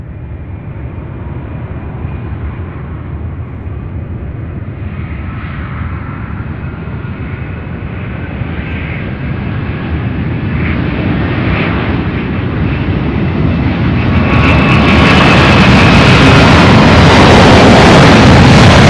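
A heavy MD-11 jet spools up for takeoff from runway 17 right, a deep, steadily swelling engine roar that grows louder and harsher over many seconds until a bright, thundering blast fills the final stretch.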